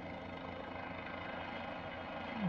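A Cabri G2 helicopter in Flight Simulator 2020 runs as the throttle is eased back, giving a faint, steady rotor and engine drone with little change across the moment.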